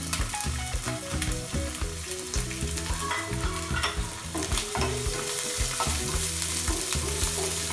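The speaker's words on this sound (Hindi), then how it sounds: "अच्छे से इसको हल्का ब्राउन होने तक फ्राई कर लें।" Steady sizzling and crackling of garlic, ginger and green chili frying in oil, with occasional stirring scrapes, close and continuous without talk.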